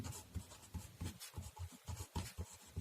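Chalk or marker strokes writing an equation on a board, a quiet series of short rubbing scratches in an uneven rhythm, close and faint, with no voice.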